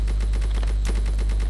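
An AK-47 fires in a rapid, evenly spaced automatic burst in the sandbox game People's Playground, loud and continuous with no talking.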